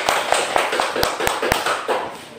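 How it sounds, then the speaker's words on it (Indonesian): A classroom group claps for a presenting student group, giving a short, scattered patter of hand claps with a few sharper taps, close and moderately loud. "beri tepuk tangan untuk kelompok 2"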